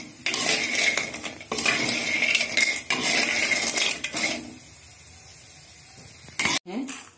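Whole spices for garam masala are dry-roasted and stirred in a pan, with bursts of metal spoon scraping and clatter against the cookware, broken by pauses and a sharp clank near the end; a voice speaks in places.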